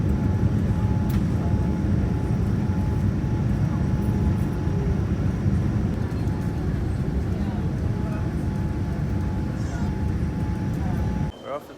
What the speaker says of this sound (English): Coming in for landing right now into Sydney.